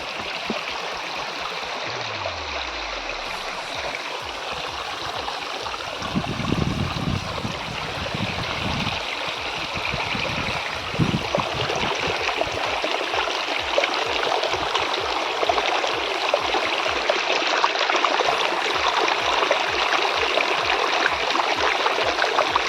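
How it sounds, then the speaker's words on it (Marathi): A hillside stream pours steadily down toward a small check dam, making a continuous broad rushing wash of water that holds close and even throughout, with no voices. "तर मित्रांनो तुम्ही आवाज ऐकू शकता आपल्या पाण्याचा"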